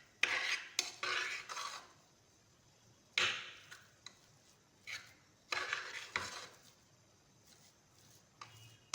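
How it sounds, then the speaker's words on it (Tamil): A spoon scrapes and knocks around a bowl, mixing dough for pooranam kolukattai, with repeated bursts of clinking and scraping separated by short pauses, close and moderately loud, with no voices. "இப்போ ஒரு கரண்டி வச்சுட்டு நல்லா கலந்து விட்டுக்கோங்க"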